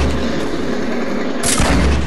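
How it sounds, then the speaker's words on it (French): Loud gunfire rattles in a shooter video game, a continuous barrage of close shots with a sharper, brighter burst around the midpoint, no voices heard. "Ils sont en train de tirer."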